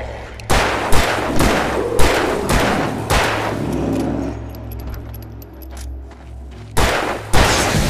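Gunfire from the survival-horror game Alan Wake, a string of sharp, loud shots spaced roughly a second apart, then a lull with a faint high ringing tone before two more blasts close the run.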